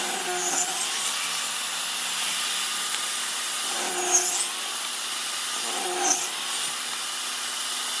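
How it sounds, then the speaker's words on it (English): A shim jig guides wooden shims through a power saw, a steady high whirring cut with a couple of brief louder scrapes as pieces pass through the blade. "You're ready to start cutting shims."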